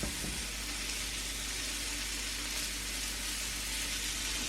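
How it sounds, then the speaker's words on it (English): Mushrooms sautéing in a pan give off a steady, soft sizzle and hiss that holds evenly throughout with no voices. "I'm actually sauteing some mushrooms right now"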